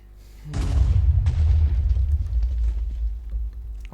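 Loud, booming TNT blast in a video game raid, a sudden deep explosion that rumbles and slowly fades over several seconds.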